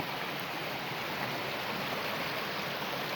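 A small creek rushing through a narrow rock slot canyon near the Upper Buffalo River, a steady close broadband wash of flowing water with no voices.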